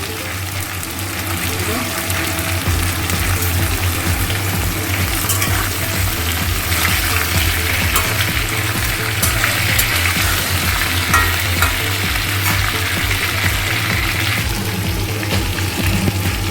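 Potato and sweet potato frying in a pan for shukto, a Bengali mixed-vegetable dish, give a steady, close sizzle with occasional stirring and scraping. The sound holds at an even level throughout.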